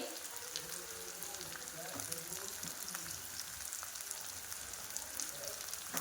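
Cauliflower florets frying in a pan of oil for vegetable pulao give a steady, close sizzle with soft crackles throughout, and no talking over it.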